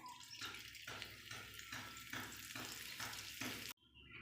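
Asafoetida sizzling in hot white oil in a pan, a steady close frying hiss pulsing in regular strokes as it is stirred, cutting off abruptly near the end.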